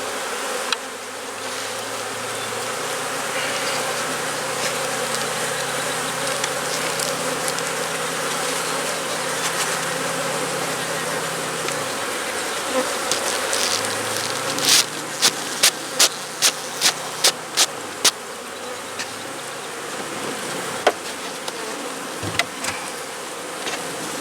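Honeybees buzz continuously around an open hive during a hive split, a dense steady drone, with a run of sharp wooden clicks and knocks partway through.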